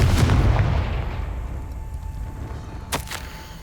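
A Confringo blast spell in Hogwarts Legacy goes off as a deep rumbling explosion that slowly fades, followed by a short sharp crack near the end.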